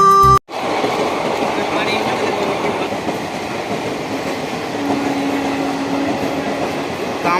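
A train passes through Sankrail railway station beneath an overbridge, with a steady rumble of rolling wagons and wheels clattering along the rails, preceded by a short sound that cuts off abruptly, with voices heard over it.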